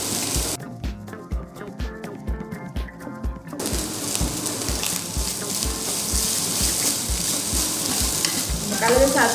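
Cooked rice is stirred into a mango mixture in a pan, with rhythmic scraping strokes of a spoon at first, then a continuous sizzling, frying hiss as the rice cooks, all close by.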